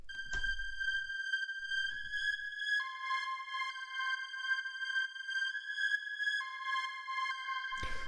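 Dark warehouse techno synth lead plays a slow, uneasy melody of clean sustained tones stepping between pitches, alone and fairly quiet, with brief low thumps at the start and a noisy burst at the end.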